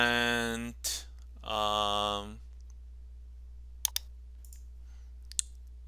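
Several sharp, isolated computer mouse clicks in a quiet room, a few seconds apart, following a stretch of speech at the start.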